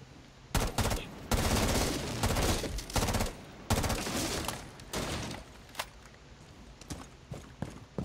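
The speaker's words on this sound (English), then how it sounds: "Bit of return fire for you." Close gunfire in Rainbow Six Siege, rapid automatic bursts forming dense volleys that give way to sparser single shots and clatter toward the end, with no talking.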